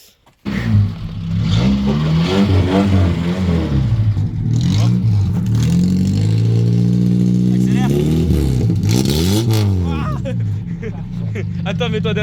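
A Peugeot 205, an old wreck of a car, starts up abruptly and then idles and revs loudly close by, its engine note climbing and falling, with a sharp rev near the end.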